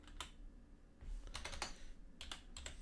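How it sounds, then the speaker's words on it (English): Fingers type on a computer keyboard in clusters of quick clicking keystrokes with short pauses between bursts, faint and close against quiet room noise, with no talking. "I'm just typing it here."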